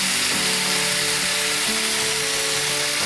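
Moth beans (kadve) dropped into a hot hing and garlic tempering for a Marathi usal, giving a loud, steady frying sizzle that fills the clip with no talking.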